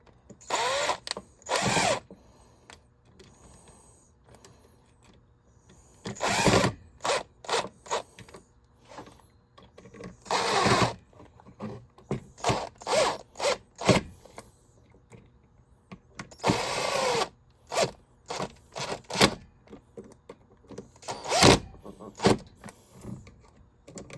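A powered screwdriver drives screws back into a Mainstays 9-inch high velocity fan in repeated short whirring bursts, some longer, separated by pauses and faint handling noises.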